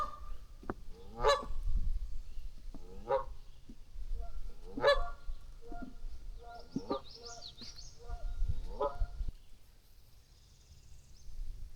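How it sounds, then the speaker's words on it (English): A family of Canada geese honks at a creek in Calvert County, Maryland, in loud, repeated bursts spread across the stretch, with a few higher calls between them over a low rumble of wind or water. "there's a family of Canada geese."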